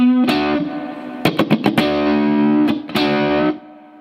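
Distorted electric guitar lead from a solo in a percussive style, sustained bent notes broken by a quick run of sharp muted staccato stabs, then more held notes, played alone with heavy effects and reverb.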